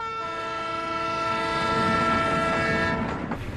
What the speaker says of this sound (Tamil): நல்லா கவனிச்சு பாரு, ட்ரெயின் கிளம்பிருச்சு.